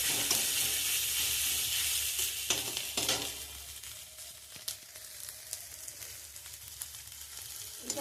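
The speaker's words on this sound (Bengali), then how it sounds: "এটা একটু ভালো করে নাল করে ভেজে নেব" Chopped ginger sizzles and fries in a pan while being stirred, the start of a cauliflower paratha filling; steady close crackle with occasional scrapes and clinks of the spatula, no voices.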